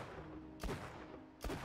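A precision gun in Borderlands 2 fires two sharp, punchy shots about a second apart, loud and close against a low game-ambience hum.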